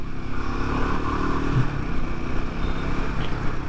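A Royal Enfield Himalayan 450 motorcycle on a test ride gives a loud, steady engine drone mixed with road and wind rush that holds constant throughout.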